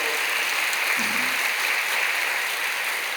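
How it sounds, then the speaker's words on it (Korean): A church congregation gives sustained applause for a praise team, a loud, even roar of clapping that carries on without pause, with a brief voice underneath. "12주 동안 앞으로 수고하실 우리 트리니티 찬양단 여러분 크게 박수로 격려하시고 일어나세요"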